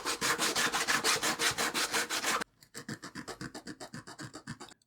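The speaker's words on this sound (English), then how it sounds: "Sanding, sanding, and more sanding." Rhythmic back-and-forth sanding strokes smooth layer lines on a part for a vintage carnival ride, close and steady, shifting partway through to a lighter, quieter scrubbing rhythm.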